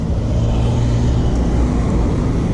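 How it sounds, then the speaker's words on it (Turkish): A car approaching on a steep mountain road, a steady low engine rumble and road noise holding at moderate loudness throughout, with no talking. "He dur dur dur araba geliyor dur."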